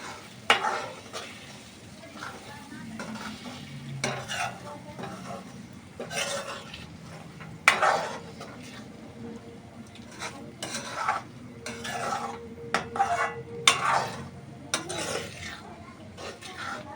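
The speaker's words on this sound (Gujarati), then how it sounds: "અને હવે ધીમા તાપા આપણે એને સડવા દઈશું અને આપણે હલાવતા રહીશું." Egg bhurji is stirred in a pan over low heat. A spoon scrapes and clinks against the pan in irregular strokes over a soft, continuous sizzle.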